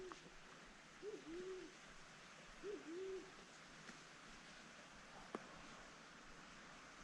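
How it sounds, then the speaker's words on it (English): An owl hoots twice in a quiet redwood forest at night, each call a soft two-part hoot, distant and faint over a steady hiss of background ambience, with a single sharp click later. "Oh, there's an owl out there."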